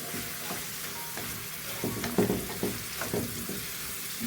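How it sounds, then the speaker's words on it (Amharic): Chili peppers sizzle in a pan while being stirred for a vegan vegetable pizza topping: a soft, steady frying hiss with scattered light scrapes and taps, growing a little busier toward the end. "አሁን ቃሪያውን ጨምሬያለሁ እንደምታዩት።"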